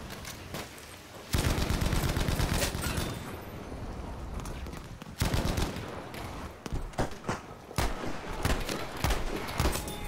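Bren Gun fire in Battlefield V crackles in loud bursts of rapid shots, with a quieter stretch of scattered distant gunfire in between and more clustered bursts toward the end.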